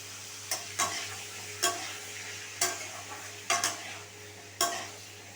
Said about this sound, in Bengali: সমস্ত উপকরণ আমি ভালোভাবে একটু ফ্রাই করে নেবো